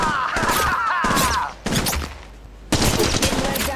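Gunfire in the mobile game Apex Legends Mobile comes in loud, dense bursts that break off briefly and then resume, with game voice lines heard over the shooting.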